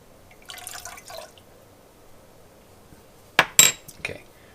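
Vanilla extract is poured into a metal teaspoon in a kitchen: a soft trickle early on, then a few sharp, close clinks of the spoon against a bowl or bottle near the end.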